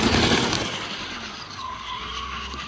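A sports car's engine revs hard with the throttle floored while its tires skid and squeal on a homemade skatepark course, a loud, continuous roar holding steady throughout with a rising tonal whine in the second half.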